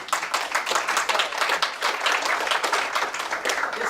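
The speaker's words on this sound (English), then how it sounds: "a big round of applause for Grant." An audience at an entrepreneurs' immigration talk breaks into a round of applause, dense, lively clapping that stays loud and even for several seconds without speech.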